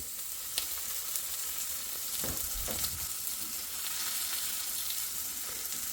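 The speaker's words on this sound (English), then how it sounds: "Just look at that bacon sizzle" Lamb bacon sizzles and crackles steadily in a hot pan, with a few sharper pops and a brief scrape of stirring.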